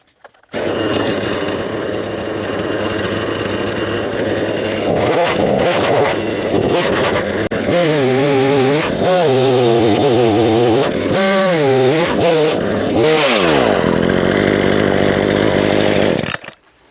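A Harbor Freight Portland 18-inch 42cc gas chainsaw runs loud and close while clearing a lot, idling then revving repeatedly into high whining bursts before cutting off at the end.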